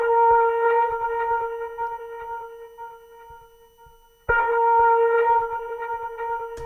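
Synth lead texture from the Analog Lab preset Redeem, a sustained tonal line with steady harmonics that fades slightly, cuts off briefly, then returns at full strength, played alone without talk.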